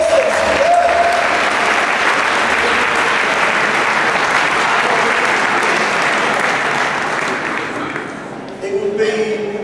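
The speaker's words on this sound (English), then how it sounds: "Round of applause." A school audience gives a loud, sustained round of applause, dense clapping filling the room for nearly ten seconds before easing off, with a few voices rising near the end.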